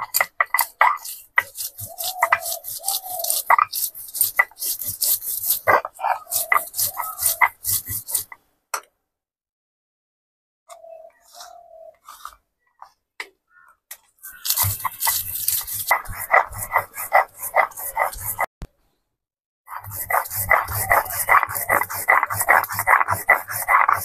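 An electric grinder runs in loud bursts as it grinds melon seeds and cashew nuts into a paste, with the whir stopping between pulses and then starting again.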